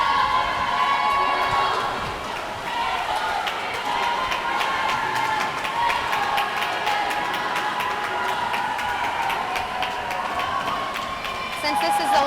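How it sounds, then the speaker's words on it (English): Swim meet relay crowd of teammates cheering and shouting steadily throughout, a loud, busy wash of voices with rhythmic chanting and splashy background noise. "There's a lot of cheering going on."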